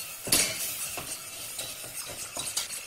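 Milk being stirred vigorously into a roux for a sauce, heard as repeated close wet whisking strokes with bright clinks against the pan in a steady rhythm.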